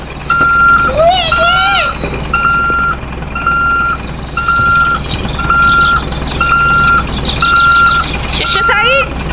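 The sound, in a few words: vehicle approaching with reversing beeps in the Roblox video game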